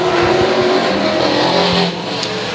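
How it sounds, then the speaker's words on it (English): Race cars at Sauble Speedway roaring off the start, several engines loud and near in a dense, sustained rumble with rising revs as the pack charges into the first corner. "Off and racing 3 wide into corner number 1"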